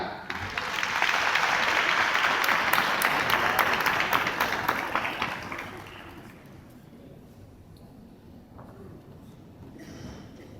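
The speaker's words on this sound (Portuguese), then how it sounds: "vamos receber com aplausos o Zé Ricardo" A conference audience at a leadership and team-management congress greets a speaker with loud applause that swells quickly, holds for several seconds, then fades away into quiet room tone.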